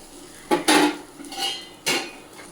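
A spatula scrapes and clinks against a pan as a Tamil-style potato fry is turned over, with a few distinct metallic scrapes and taps close by and no talking.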